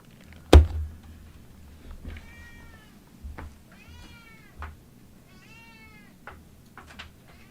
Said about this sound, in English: She is meowing for me at the top of the window.